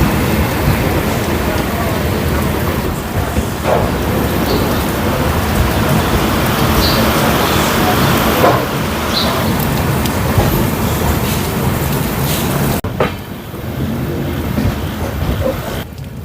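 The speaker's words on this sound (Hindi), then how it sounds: "देख लो बारिश यहाँ पे कितना तेज़ दे रहा है।" Heavy rain pours at a train station on the Guwahati–Sairang line in Mizoram, a loud, dense, continuous roar with faint rumbles in it, dipping briefly near the end before resuming.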